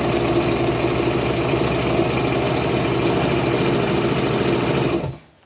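A sewing machine stitches along the edge of a garment, stretching the fabric just past the elastic while upcycling clothing into a tunic; a steady, loud, close mechanical whir runs continuously for about five seconds, then stops abruptly.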